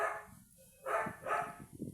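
A pet dog at home gives a few short barks over two seconds, fairly near and moderately loud, with a quiet gap before the later yaps.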